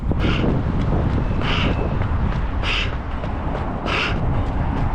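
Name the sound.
river headwind blowing into microphone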